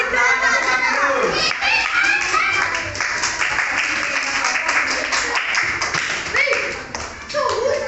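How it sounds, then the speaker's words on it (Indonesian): A class of fifth-grade children at an Indonesian elementary school clapping for a classmate, with dense, steady applause mixed with children's chatter and voices throughout. "Kita kasih tepuk tangan untuk Irul."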